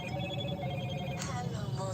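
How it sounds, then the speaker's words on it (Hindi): A phone rings repeatedly with a repeating electronic tone under low background rumble, while voices murmur faintly. "फोन बज रहा, वही बार बार बज रहा है ना"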